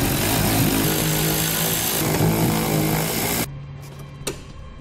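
Power tool driving out 8mm screws where the fascia bolts to the fender of a 2017 Ford Edge, a loud steady whir that stops abruptly, followed by faint clicks.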